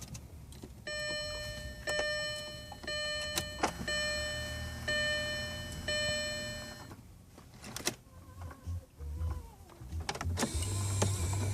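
A motor whirs steadily for several seconds as the navigation monitor of a 2004 Audi A8 powers up after the ignition key turns, its hum ending amid soft clicks and handling noises close by.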